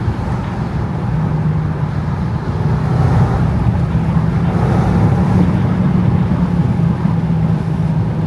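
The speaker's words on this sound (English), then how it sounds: "The fact that I'm driving a Range Rover right now and it's making these sounds is actually insane." A supercharged V8 Range Rover engine drones steadily while driving, a loud continuous low rumble that swells slightly from midway, with heavy wind buffeting across the microphone throughout.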